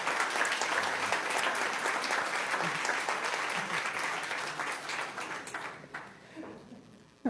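Audience applauding at a school district board meeting, steady dense clapping that tapers off near the end before a brief sound at the close.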